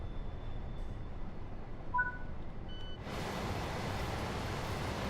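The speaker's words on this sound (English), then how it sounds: "That sounds like a freight train." A freight train in the Train Sim World 5 railway game passes with low rumbling wheel noise, joined by brief faint tones, and then swells abruptly into a louder, broad rushing roar as the wagons go by.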